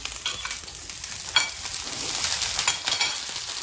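Chicken pieces frying for Jamaican brown stew chicken, a steady close sizzle with occasional sharper scrapes and clicks as a spoon stirs the pan, no talking.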